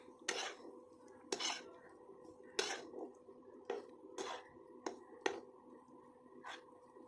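Cooked fish (loitta/Bombay duck) being stirred in a wok, a series of distinct metallic scrapes and clinks of a spatula against the pan, about eight strokes at irregular intervals, fairly close and otherwise quiet.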